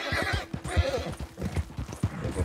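Horse hooves clip-clop steadily at a brisk ride in Red Dead Redemption 2, a close, regular rhythm of dull thuds on an old dirt road, with a brief whinny-like tone mixed in.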